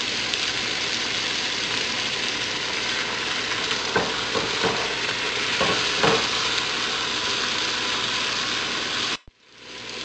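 Pork browning in a pan for Filipino pork tinola, a steady dense sizzle and frying hiss running continuously with a few brief louder crackles midway, then cutting off abruptly near the end.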